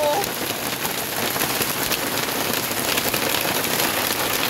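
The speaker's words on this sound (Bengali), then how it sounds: "আবারও বৃষ্টি জোরে হয়ে গেছে" Heavy rain falls steadily outdoors as a dense, even hiss of drops on surfaces, with no break throughout.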